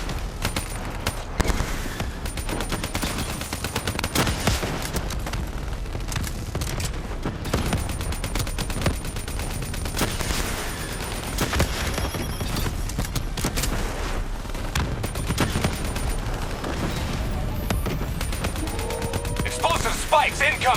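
Sustained automatic gunfire from a Call of Duty: Black Ops III firefight against a Manticore, dense rapid bursts filling the scene continuously with booming impacts, loud and close throughout.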